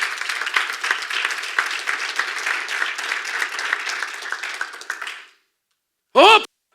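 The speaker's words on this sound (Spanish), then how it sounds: "Vamos, dale un aplauso al Señor." A church congregation applauds together, dense sustained clapping that fades out after about five seconds, followed by silence and a brief loud voice.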